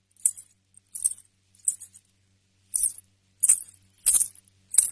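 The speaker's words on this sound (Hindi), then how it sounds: "तभी वहां किसी के पायलों की छन छन और चूड़ियों के खनकने की आवाज सुनाई पड़ी।" Bright metallic jingling of anklet bells and bangles comes in short bursts, about seven clusters of tinkling bells and clinking, fairly close with quiet gaps between.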